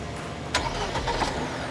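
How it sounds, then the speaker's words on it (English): A Ford Territory Sport fires up by remote start with a brief cranking burst, then settles into a steady mid-pitched idle heard from nearby, with no talking. "So you can now start the engine without getting inside the car."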